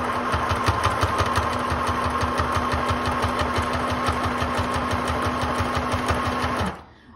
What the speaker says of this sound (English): let's give it a sew